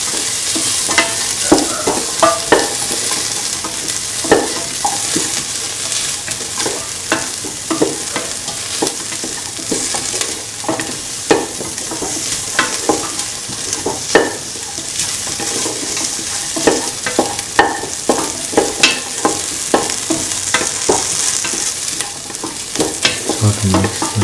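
Onions, shallots, garlic and ginger sauté in a pan with a steady, close sizzle, broken by frequent scraping and clacking stirs that keep up a busy, irregular rhythm throughout; no voices.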